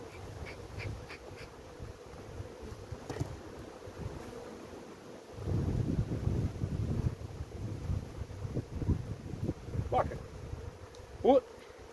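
Honey bees buzz around the entrance of a hive during a colony transfer, a thin insect drone with wind rumble on the mic and someone speaking over it.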